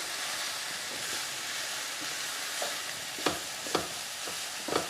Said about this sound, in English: add your sweet corn and your tomatoes, and then give it another wee stir through